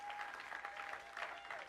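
A congregation at a French-language worship service applauds loudly and steadily, a dense, continuous wash of clapping from many hands with a faint sustained tone beneath.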